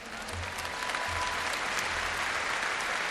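A congregation applauds during a Catholic radio broadcast, a continuous even wash of many hands clapping at moderate distance, with a low rhythmic thump underneath.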